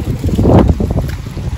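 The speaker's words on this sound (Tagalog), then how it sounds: "Malakas po ng hangin." Strong wind buffets the microphone in a loud, roaring gust that swells and fades over a second and a half, outdoors on a street in Bonn, Germany.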